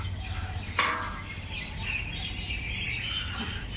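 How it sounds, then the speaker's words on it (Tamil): Crows and sparrows chirp and call while feeding in a busy outdoor setting, with a steady low hum of background noise and one sharp burst near the start. "காக்கா குருவி எல்லாம் ஒற்றுமையாக சாப்பிடுது பாருங்க"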